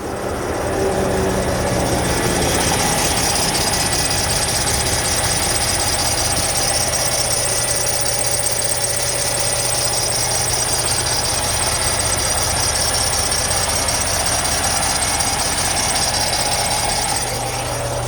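A Volvo truck diesel engine idles while warming up, a loud, steady rumble with a faint rhythmic knock that holds throughout.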